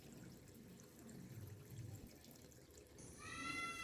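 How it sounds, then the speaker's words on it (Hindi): Water runs steadily from a village tap or pipe, a soft continuous wash that swells toward the end, with no voices present. "पानी बह रहा है"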